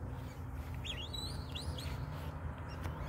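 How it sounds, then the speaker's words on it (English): A backyard bird gives a short, faint whistle-like call of a few rising notes over a low steady background rumble, heard alone without voices. "Hear that one? Sound like he almost whistled at us."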